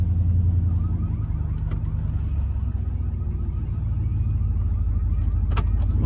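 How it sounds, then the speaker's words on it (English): Car alarm going off near a trailer, a loud continuous wailing tone over low rumbling background, close by and steady, with no speech. "I don't know what made the alarm go off there."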